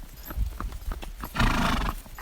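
A horse during a riding lesson walks with clear clip-clop hoof beats, then gives a loud whinny near the end, close and prominent with no talk.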